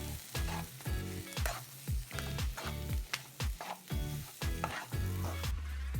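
Stone-crushed beef fry is stirred in a hot pan, rhythmic scraping strokes repeating about every half second over a steady close sizzle, with no one talking.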